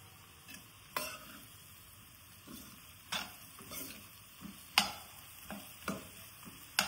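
Bitter gourd curry frying in oil in a pan, a soft steady sizzle broken by intermittent sharp scraping clicks as it is stirred, close by with no talking.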